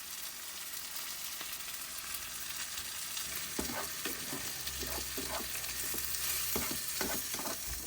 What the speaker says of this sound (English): I found this very nice corner to cook some breakfast right now.